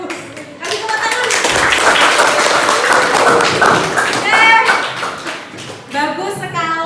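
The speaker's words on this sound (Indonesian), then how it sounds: "Kasih tepuk tangan" Students in a classroom clap together in a lively burst of hand claps and taps lasting several seconds, with children's voices and talk mixed in and a teacher speaking as it fades.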